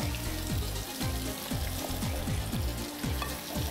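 Grated garlic frying in a pan, with a continuous close sizzle and a regular scraping rhythm of stirring about twice a second, and no talk.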